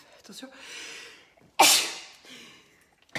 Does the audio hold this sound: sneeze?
yes